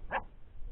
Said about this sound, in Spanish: están los perritos toreando ahí abajo